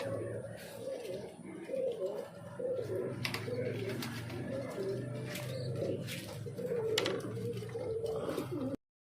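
Pigeons cooing softly while being fed in the afternoon, low repeated coos mixed with wing flutters and pecking, close and fairly faint throughout.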